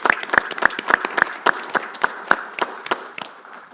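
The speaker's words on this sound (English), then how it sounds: "Can we give them an applause?" Scattered applause at a school board of education meeting. A few nearby hands clap in a quick, even rhythm, distinct individual claps that gradually thin and soften toward the end.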